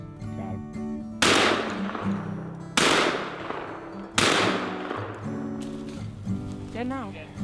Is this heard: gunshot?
yes